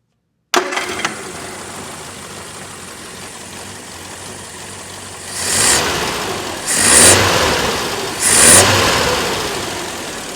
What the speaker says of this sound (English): show you how easy it's firing up now